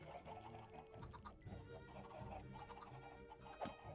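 Chickens cluck in a modded Minecraft world, a busy mix of game fowl calls running steadily throughout at moderate level with other game sounds layered in.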